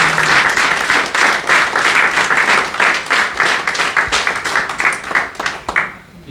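Audience applause at an anniversary ceremony in Florac: loud, dense, sustained clapping from a sizable crowd that carries on for several seconds before tapering off at the end.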